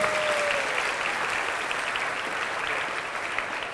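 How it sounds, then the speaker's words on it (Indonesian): Applause from a crowd at an Islamic religious gathering: dense, steady clapping that continues at an even level throughout, near and full. "Tepuk tangannya dong sekali lagi."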